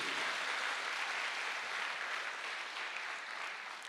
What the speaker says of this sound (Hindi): एक जोरदार तालियां होनी चाहिए हमारे नए गेस्ट के लिए।